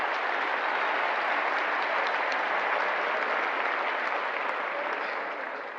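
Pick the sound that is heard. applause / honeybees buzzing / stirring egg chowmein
applause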